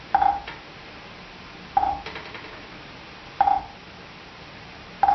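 Four sharp, evenly spaced drumstick strokes on a drum, each a bright tap with a short ringing buzz, played alone at a steady slow pace.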